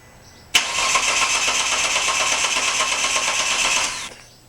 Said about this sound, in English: Now I'm going to go start the car until it dies.